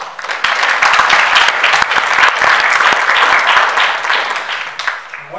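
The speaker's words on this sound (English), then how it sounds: "give them a round of applause for their effort" Loud, sustained applause from a large colloquium audience, dense clapping that holds steady for several seconds before tapering slightly at the end.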